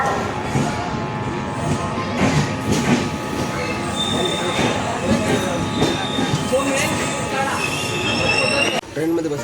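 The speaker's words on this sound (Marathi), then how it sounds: "ट्रेनमध्ये बसलो मित्रांनो आणि आता गाडी सुटली आहे" An LTT Madgaon Express train pulling out of the station, with continuous rumbling wheels, sustained metallic squeals and faint clickety-clack, heard from inside a coach at close range, with a brief sharp clunk near the end.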